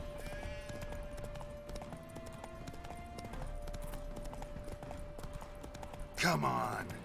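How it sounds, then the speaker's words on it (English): Horse hooves clip-clopping in the open-world fantasy video game The Witcher 3: Wild Hunt, a steady rhythmic gait under game music, with a rider's voice speaking and a louder burst near the end. "Run, Roach"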